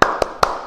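Children at a Sunday school session clap a 'tepuk semangat' cheer: three crisp, evenly spaced claps in quick succession, close and fairly loud, with a faint roomy decay between them.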